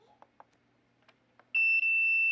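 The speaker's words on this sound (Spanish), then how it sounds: "y va a salir la alarma de inmediato" A MAM-860 controller sounds its alarm for an expired oil filter after the filter life is set to 600 hours: a few faint clicks, then a loud, steady high-pitched electronic beep held for about a second.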